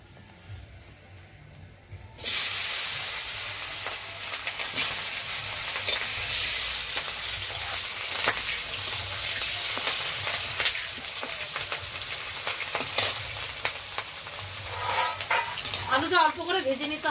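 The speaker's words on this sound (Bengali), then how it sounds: "প্রথমে আমি আলুটা ভেজে নেব।" Potatoes drop into hot oil in a pan and burst into a loud, sustained sizzle after a quiet start, with intermittent stirring clicks and scrapes throughout.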